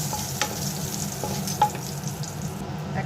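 Chopped onion dropped into hot oil with garam masala, cardamom, cloves, cinnamon and bay leaf, a steady close sizzle with light stirring clicks, no talking.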